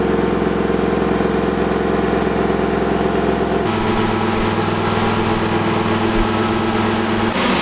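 Loud, smooth Toyota 1UZ-FE V8 engine drone from a Hilux running continuously on a dyno, its pitch and tone shifting partway through as the load changes, with no talking.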